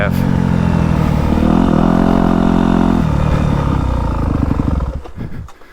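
A 2022 Yamaha YZ250F Monster Edition motocross bike runs loud and close, its engine droning at steady revs, then shifting pitch and fading out near the end.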